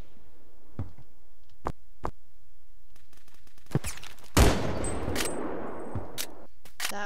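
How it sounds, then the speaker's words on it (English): A single loud .50 caliber sniper rifle shot in the first-person shooter game Phantom Forces cracks out in mid-clip, followed by a lingering reverberant tail, with a few sharp clicks and distant reports scattered before and after. "That was a 50 cal sniper."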